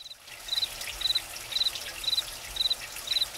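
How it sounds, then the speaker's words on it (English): Water trickling from a drilled wooden barrel in a fairy-tale game: a soft, steady dribble under faint repeating chirps, quiet and close. "I've drilled the barrel a little, and see, a trickle of water starts pouring out."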